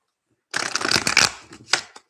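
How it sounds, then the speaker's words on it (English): A deck of tarot cards is shuffled by hand close up, a quick riffling flutter lasting over a second, followed by a couple of softer card taps. "let me try and shuffle that one again"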